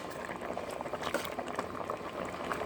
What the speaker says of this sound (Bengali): শাকগুলো দেখুন ভালোভাবে সিদ্ধ হয়ে আসছে